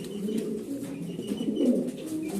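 Grizzle Beauty Homer pigeons coo softly nearby, low murmuring calls running steadily with one clearer rolling coo midway, over a quiet room background.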